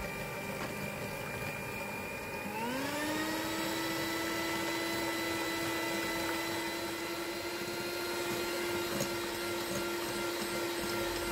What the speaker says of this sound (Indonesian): Kemudian ketiga bahan ini akan aku mixer dengan kecepatan sedang dan meningkat hingga kecepatan maksimal.